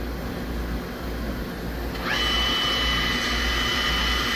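Power driven tools spin on the main side of a 2008 Star SR 32J Swiss CNC lathe, making a steady mechanical whir that rises to a higher pitch about halfway through, then holds a constant tone, close and continuous.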